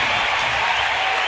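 Basketball arena crowd during an NBA game between the Oklahoma City Thunder and San Antonio Spurs, a dense, loud wash of cheering and applause filling the space for a brief moment.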